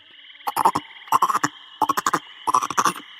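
A frog croaks in four quick bursts of rapid, rattling calls, each a cluster of short pulses, close and clear against a quiet background.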